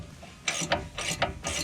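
Ratchet wrench with a deep 21 mm socket tightening the upper ball joint nut on a 2009–2014 twelfth-generation Ford F-150 front suspension; three close, loud bursts of rapid ratcheting clicks in steady rhythm, no talking.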